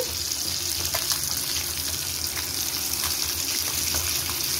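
Fish frying in oil, browned on both sides, giving a loud, continuous crackling sizzle with light spattering throughout.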